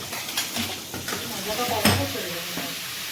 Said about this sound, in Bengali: বেগুন ভাজা হচ্ছে এদিকে পটল ভাজা হয়ে গেছে